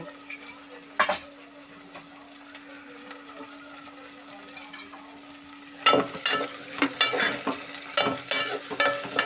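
Vegetables fry in a pan with a faint, low sizzle. About midway, repeated scraping and clinking stirring strokes come in, close and fairly loud, with no talk.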